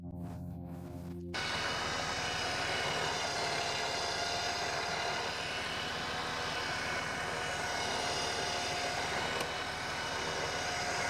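A vehicle engine starts up before a self-recovery with a portable winch, turning over and then settling into a loud, steady running drone that fills the rest of the stretch.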